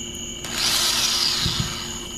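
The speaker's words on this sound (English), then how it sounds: "I'm using a smaller drill bit. This 316 stuff is pretty tough stuff," Power drill boring a hole through tough 316 stainless steel with a small drill bit, a steady whining grind that swells for about a second and a half under a constant electrical hum.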